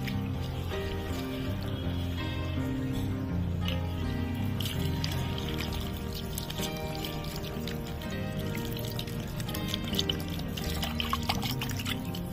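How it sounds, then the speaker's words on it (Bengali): Water pours into a bowl of mixed lentil dal, a steady close trickling and splashing that runs throughout, with a few brighter drips near the end and no talk. "দিয়ে দেবো জল।"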